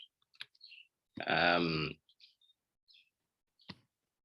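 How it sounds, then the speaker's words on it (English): Keystrokes on a computer keyboard during a Java programming lecture: scattered light clicks with a short burst of busier typing in the middle, close and fairly quiet, with no talking. "keyboard"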